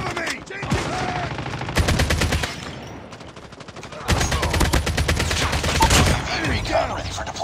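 Rapid automatic gunfire rattles through a video game shootout in repeated loud bursts with short pauses between them, close and dense, while a voice calls out faintly in the background.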